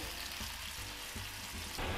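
Pieces of monkfish fry in hot butter, giving off a soft, steady sizzle and crackle close by, with a few faint stirring sounds and no talking.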